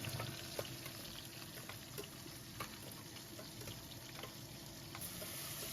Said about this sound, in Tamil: நன்றாக வதக்கவும்.